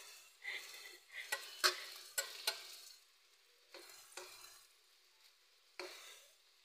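An egg dish fries in a pan as a utensil stirs and scrapes it, bringing a run of sharp, close clinks and scrapes over a soft sizzle, with quieter gaps between the strokes.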